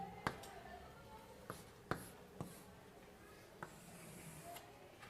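Chalk or marker tapping and scratching on a classroom board, a few sharp isolated strokes over a quiet room hum.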